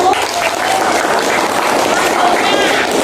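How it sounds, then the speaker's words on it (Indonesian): A classroom of students applauds a group of classmates after a math lesson presentation, a dense, steady wash of clapping filling the whole stretch, with voices and chatter mixed in. "beri tepuk tangan untuk kelompok 1"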